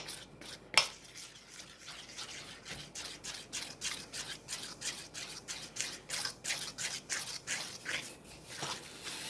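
Pasta dough is scraped and gathered from a floured work surface, with repeated rhythmic rasping strokes close up and one sharp tap near the start.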